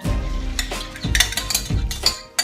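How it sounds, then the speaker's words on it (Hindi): Beaten eggs poured into a hot pan for a breakfast dish, giving short bursts of sizzling with clinks of a utensil against the pan, close and fairly loud, with no talking. "हम यहां पर एग जो बीट्स किए वो डालेंगे."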